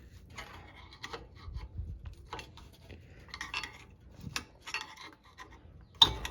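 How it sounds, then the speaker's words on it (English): A screwdriver scrapes and clicks against metal while a wedged brake pad is worked loose on a 2009 Toyota Corolla, with irregular close scraping and rubbing bursts and one sharper clack near the end. "I'm just gonna take a screwdriver and kind of slowly work this out"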